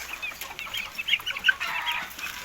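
Several chickens cluck and chatter at a moderate distance, a busy overlapping flock sound with faint background noise.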